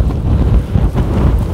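Strong wind buffets a microphone on a hilltop tor on Dartmoor, a loud continuous low rumbling roar with gusty fluctuations throughout.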